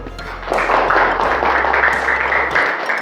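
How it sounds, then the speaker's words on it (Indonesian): A classroom group applauds during a maths lesson: an even patter of many hands begins about half a second in and continues steadily at moderate loudness, with little talk over it. "Tepuk tangan dulu."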